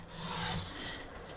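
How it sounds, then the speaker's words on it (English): A Sizzix paper trimmer blade slides through a sheet of pattern paper, giving one continuous close raspy rub lasting just over a second, slightly stronger midway, with no talking. "So let's trim our piece of pattern paper"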